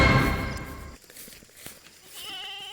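Goats on a farm bleating, a loud nearby cry at the start followed by quieter rustling and another faint bleat near the end.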